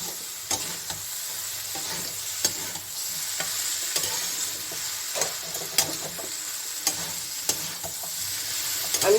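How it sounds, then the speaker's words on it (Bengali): Spring onion greens fry in a pan in their own released water, with a steady sizzle and repeated scraping stir strokes from a spatula, close and continuous with no talk. "না দিয়ে এই সবজি থেকে যে জল ছাড়বে সেই জলেই সিদ্ধ হয়ে যাবে, সেই জলেই ভাজা হবে"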